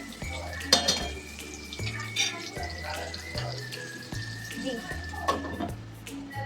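Stirring bhindi masala in a pan: spoon scrapes and metallic clinks recur at a steady pace against the cookware, fairly close, with faint background tones.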